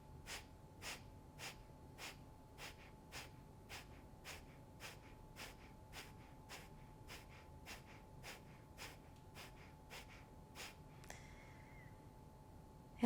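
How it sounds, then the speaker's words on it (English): Rapid, forceful nasal exhales in an evening yoga breathing exercise, about twenty evenly spaced sharp puffs, close and fairly soft, ending in a longer breath. "Take a deep inhale and then give some effort into those exhales a little faster than you might usually do."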